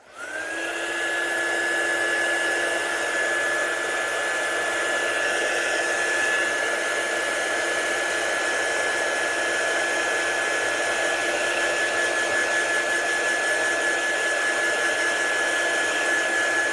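A hair dryer or heat tool drying a watercolour card made with inks and glazed layers: a steady, loud blowing whine that starts abruptly and holds evenly for over fifteen seconds, with no talk over it.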